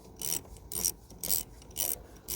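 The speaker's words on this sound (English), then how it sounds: "now back to 10mm, undo the positive clamp" A 10mm wrench works loose the positive battery clamp on a Ford Ranger T6, giving five evenly spaced, close, scratchy ratcheting strokes about half a second apart, with no talking.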